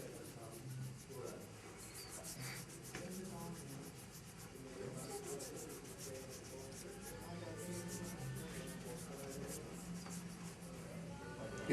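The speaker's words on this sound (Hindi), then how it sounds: "फिर इस तरह रब करना है आपने, इस चीज से रब करना है आपने" An object is rubbed over a person's body during therapeutic massage for cerebral palsy, giving a soft continuous scraping and rubbing sound, fairly quiet and steady throughout.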